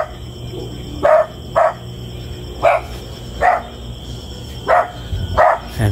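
Several alarmed dogs bark outdoors, about seven sharp separate barks spaced irregularly over a steady background hum, fairly close and loud.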